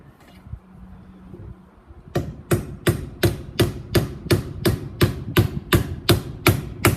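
Steady hammer blows strike nails in an even rhythm, about a dozen sharp close metallic knocks, after a quieter stretch of faint background noise.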